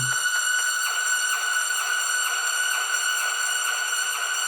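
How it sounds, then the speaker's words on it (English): A pitched-up vocal chant sample drenched in reverb, with steady sustained tonal layers and faint rhythmic pulses repeating about every half second, continuous and fairly quiet throughout. "It's like a vocal chant, and I pitched it."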